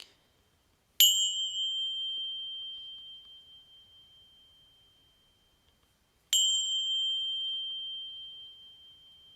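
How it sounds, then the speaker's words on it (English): Meditation bells ring out twice, each a clear, bright metallic strike that hangs and slowly fades into near silence before the next one sounds. "I'm just going to mark the beginning of the formal session just by ringing the bells 3 times"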